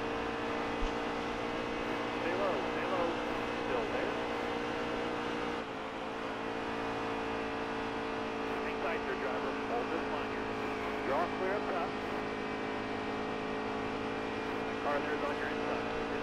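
Xfinity Series stock cars race down the back stretch at Texas, a steady, dense roar of many engines droning together at a distance, with broadcast commentary running over it throughout.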